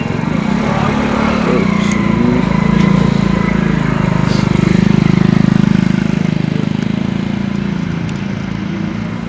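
Several motorcycle engines from a riders' group, including a Harley-Davidson and a Royal Enfield Interceptor and Continental GT, idle together in a loud, steady, close rumble with no talk.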